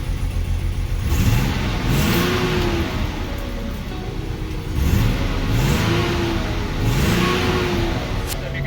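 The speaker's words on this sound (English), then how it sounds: "Got it fired up here, Cody." A BMW 633 CSi shark-nose coupe engine runs steadily close by, revving up in several rising pulls of pitch, a brief voice heard faintly under the engine noise.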